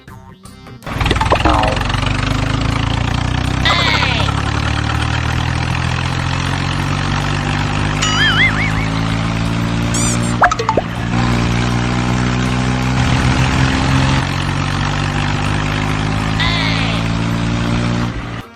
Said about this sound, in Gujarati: હાલો અત્યારે ફટાફટ ટ્રેક્ટર હાકી નાખું.